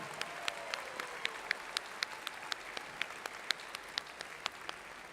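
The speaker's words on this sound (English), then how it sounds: "May I ask a round of applause to celebrate this group?" Applause at a medical school commencement, faint and distant-sounding, with a fairly regular pattern of distinct claps over a soft wash of crowd noise.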